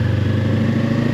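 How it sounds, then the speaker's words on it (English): A motorcycle engine runs loud and close after a downshift into third gear, holding a steady, throbbing mid-pitched drone with no other sounds. "Downshift smoothly, third gear."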